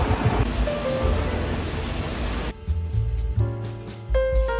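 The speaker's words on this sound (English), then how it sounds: "It's raining." Steady rain hisses as a dense broadband wash, then thins into scattered drips and patters with low rumbling underneath.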